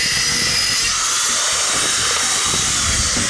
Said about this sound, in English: I figured it'd be way easier to sand this right now than to wait when it's all assembled.